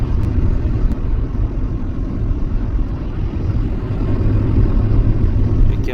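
A van drives steadily toward a parking lot on the road, giving a continuous low engine and road rumble that stays even and fairly loud throughout, with no voices.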